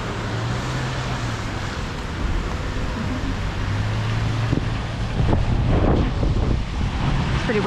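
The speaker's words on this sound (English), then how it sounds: "It's pretty windy here" Strong wind buffets the microphone with a constant roar that swells louder toward the end, with a faint low hum underneath, on a street in downtown Center City, Philadelphia, PA.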